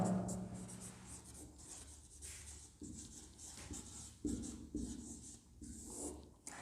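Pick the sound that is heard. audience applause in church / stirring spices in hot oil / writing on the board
writing on the board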